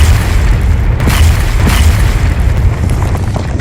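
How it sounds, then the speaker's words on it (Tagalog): Heavy booming blast of ground exploding, a deep rumbling roar that swells and sustains loudly with crackling bursts layered in, like a dramatized eruption of earth. "Nang biglang pagsabog ng lupa sa paligid"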